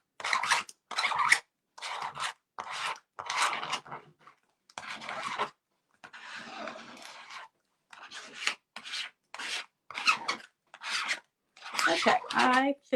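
A plastic spreader burnishing a stencil onto a small wooden puzzle piece, repeated close, raspy rubbing strokes in short uneven bursts with brief pauses between them.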